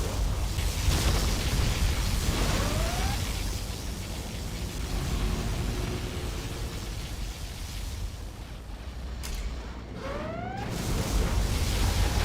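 Particle cannon blasts in C&C Generals Zero Hour, a deep rumbling barrage of explosive booms with rising zapping sweeps, sustained and dense with a second surge near the end.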